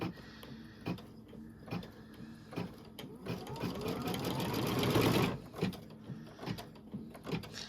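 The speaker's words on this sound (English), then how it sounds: "when it goes to stitch, it's going to come down on the fabric as opposed to before the fabric" An embroidery machine stitches through fabric for sweet treat bags in the hoop, a close rapid mechanical chatter that builds to a dense run mid-clip, with quieter separate stitch bursts before and after.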